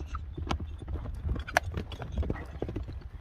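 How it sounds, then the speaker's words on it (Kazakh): Hooves of a five-year-old racehorse clip-clopping on firm ground close by, a quick uneven run of knocking steps over a faint background. "5 жаштагы ат экен"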